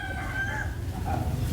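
Backyard chickens and a rooster on a farm, with a short, close crowing call over low, busy clucking from the flock in a brief burst.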